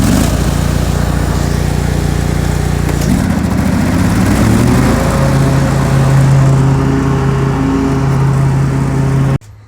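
An old 2204 lawn tractor with a Kohler CH18 engine runs loud and close, a steady rumbling drone whose pitch shifts and rises midway before holding, then cuts off abruptly at the end.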